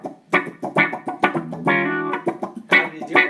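Guitar played to mimic an envelope filter, a series of short, quacky plucked notes with a few longer held chords, close and clear with no talking.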